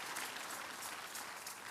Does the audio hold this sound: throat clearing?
no